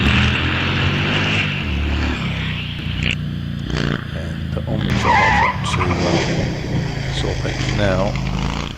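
A twin-cylinder Cooper 500 race car rounds the Sawbench hairpin during a hillclimb at Wiscombe Park. Its engine note is loud and rough and rises and falls as it accelerates, with brief tyre squeal, while a commentator talks throughout.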